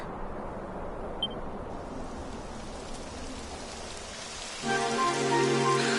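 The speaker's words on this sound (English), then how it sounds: "It would have to go and start raining, wouldn't it?" Steady rain in a video game, Dragon Quest XI, patters across a surface, a soft continuous hiss, joined near the end by a louder droning tonal layer.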